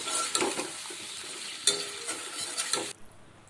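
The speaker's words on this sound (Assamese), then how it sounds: "মই ইয়াতে চিকেনখিনি দি দিম। আৰু এতিয়া এইখিনি পিয়াজেৰে ভালদৰে লৰাই দিম।" Chicken pieces stir-fry with browned onions in a pan, soft sizzling under repeated scraping and clattering of a spoon against metal, ending abruptly in near silence.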